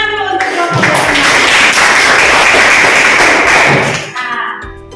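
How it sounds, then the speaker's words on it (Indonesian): Students in a high school chemistry class in Denpasar clap loudly for a group that answered correctly, a dense, close burst of applause lasting about four seconds before cutting off, with a teacher's voice just before and after. "Ayo tepuk tangan dulu untuk kelompok ini."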